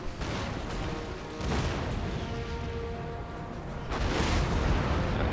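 Heavy cannon fire in a naval battle in the video game Total War: Empire, a series of loud booming blasts over a rumbling battle din, with no talking.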